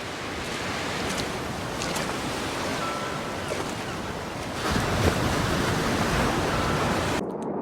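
Ocean surf washing continuously with broad wind-blown noise, steady and fairly loud, with a brief swell of louder water near the end before cutting off.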